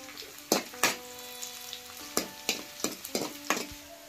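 Garlic, onion and chillies frying in a pan, with sharp stirring scrapes and clacks at irregular intervals over a low steady sizzle, close and fairly loud.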